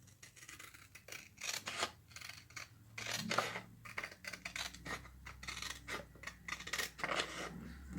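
Scissors cut paper accessories for a Chalk Couture Season's Best kit. The snips come close and crisp in an irregular run of many short cuts, with no voice over them.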